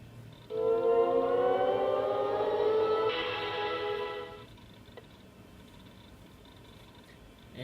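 The OS/2 Warp startup sound on a Packard Bell Legend 20CD: a bright synthesized chord swells in, rises and brightens midway, then fades after about four seconds into quiet background hiss.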